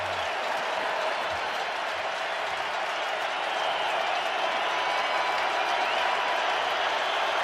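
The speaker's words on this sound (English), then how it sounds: "Crowd again." Stadium crowd at an NFL game between the Patriots and the Colts in 2015, with a broad, sustained roar of applause and crowd noise filling the space steadily and building slightly toward the end.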